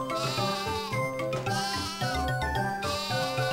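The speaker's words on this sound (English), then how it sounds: "There's sheep in a field." Repeated sheep bleats in Final Fantasy III ring out over bouncy game music with jingling tones, a few cries in quick succession, clear and close.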